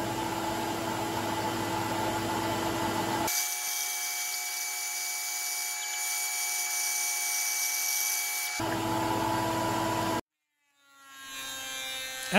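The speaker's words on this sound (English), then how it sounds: "So I'm going to resaw this in half, and so hopefully I'll end up with about 3/8 of an inch pieces" A power saw resaws white oak into thin strips for the sides and top of an inlay-banded gift box, giving a steady, loud, whining drone throughout that stops abruptly near the end.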